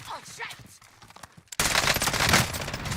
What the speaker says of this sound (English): Oh no, we were shooting the same one.